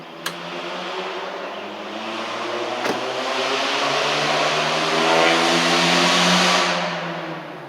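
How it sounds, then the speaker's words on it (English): Honda Civic engine revving up loudly, a rising whining drone with climbing harmonics that swells to a peak and eases off, heard close and alone. "That was a Honda Civic making all that noise right there"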